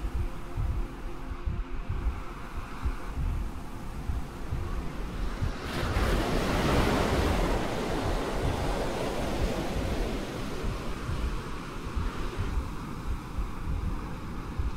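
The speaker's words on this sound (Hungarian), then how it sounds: "A tengeren nagy hullámokat látsz." Ocean waves roll and surge continuously, with a louder crashing swell in the middle and steady wind rushing underneath; no voices.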